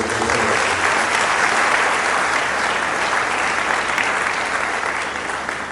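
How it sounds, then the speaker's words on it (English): Sustained, loud applause from a lecture-hall audience at an alumni personality lecture, a dense wash of clapping holding steady and tapering slightly at the end. "Please, another big round of applause"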